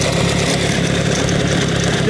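A 1952 Hummer 125 motorcycle engine runs steadily nearby, a loud, dense buzzing drone with no break across the short stretch.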